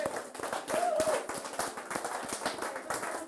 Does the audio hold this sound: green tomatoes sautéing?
no